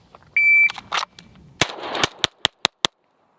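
Staccato XC pistol fired at a shooting range, a rapid string of sharp cracks, the last few evenly spaced and distinct, with a brief electronic beep before the shots.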